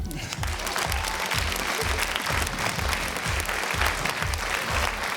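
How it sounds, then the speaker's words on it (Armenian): An audience applauding at the X-Factor Armenia gala show, a rhythmic, unison double clap repeated steadily, loud and close, over light crowd noise. "Դե ուրեմն double ծափ"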